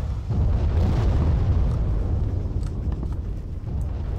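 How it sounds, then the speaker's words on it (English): Continuous heavy rumbling explosions in a battle royale video game, loud and booming, with dense low-end roar and scattered crackling bursts throughout, no talking. "I can probably get somewhere under the cover of these explosions"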